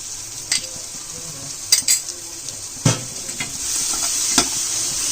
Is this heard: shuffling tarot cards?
no